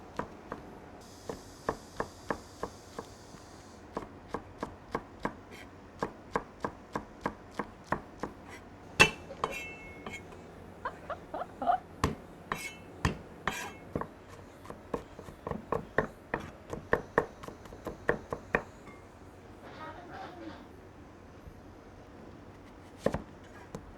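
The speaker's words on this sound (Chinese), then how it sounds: "切点那个海椒圈圈哈" A knife chops homegrown chili peppers into rings on a cutting board, with sharp, close taps in a steady irregular rhythm across the whole stretch, some quick bursts and short pauses, with no talking over it.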